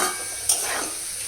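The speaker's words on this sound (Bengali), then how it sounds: "আলু ভাজাটা বসিয়ে দিয়েছি কড়াইটা মনে হয় ঠিক মতন গরম হয়নি তার জন্য আলু ভাজাগুলো না লেগে লেগে যাচ্ছে" Potato slices fry in a wok that is not hot enough and are sticking to it; a soft, steady sizzle runs throughout, broken once by a quick spatula clink.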